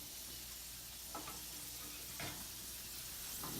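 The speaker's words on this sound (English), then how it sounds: "You can hear them Sizzling away." Homemade fries sizzle while cooking, a quiet, steady frying hiss with a few brief louder crackles.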